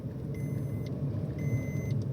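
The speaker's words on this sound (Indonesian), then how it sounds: "Suara mesin memang agak kasar ya guys ya. Maklum 3 silinder ya." Low, rough idle rumble of a 2023 Suzuki S-Presso 1.0 three-cylinder engine with AGS automatic gearbox, heard from inside the car, steady and fairly quiet, with faint high beeps twice.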